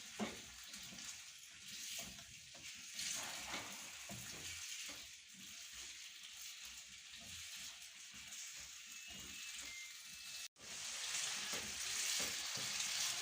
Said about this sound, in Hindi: तीन से 4 मिनट हो गए इसको मैं भून रही हूँ ऑयल में आलूओं को।